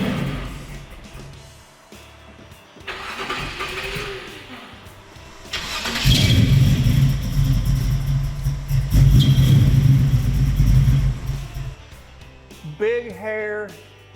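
A Camaro with a small-block 350 V8 cranks with a slow, labored starter, then catches and runs loud and rough nearby, with people talking over it before and after.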